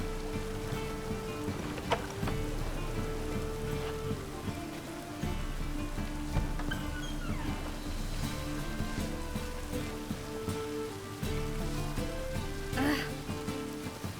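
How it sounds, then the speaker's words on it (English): Continuous rain falling in The Witcher 3 video game, a dense steady patter mixed with game music and ambient tones throughout. "Looks like rain."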